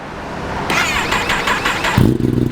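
A Kawasaki ZX10 SE motorcycle with a BJ Japan exhaust rumbles at idle, then its engine rises in a loud throaty rev, drops back and briefly bursts again, heard close with no talking.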